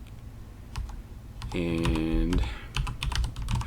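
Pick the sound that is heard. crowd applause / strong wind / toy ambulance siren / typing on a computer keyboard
typing on a computer keyboard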